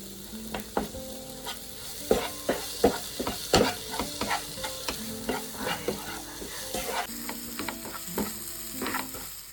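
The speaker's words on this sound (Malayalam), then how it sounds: "അങ്ങനെ മസാലയ്ക്ക് റെഡിയാക്കി വെച്ചതിന് ശേഷം അതിക്ക് മീനൊക്കെ ആഡ് ചെയ്തിട്ട് നല്ലോണം മിക്സ് ചെയ്യാണ്" Fish pieces are stirred into masala frying in a pan for lunch, with a steady soft sizzle under repeated clinking and scraping strokes of a spoon at an irregular rhythm, close by and with no talking.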